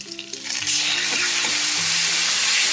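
Steady, loud sizzling of ginger-garlic paste frying in hot oil with green chillies, with occasional stirring scrapes and clinks throughout.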